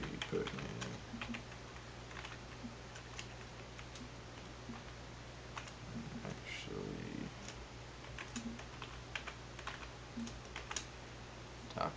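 Soft computer keyboard typing in irregular bursts of close, light clicks over a constant low hum, with someone talking quietly in between.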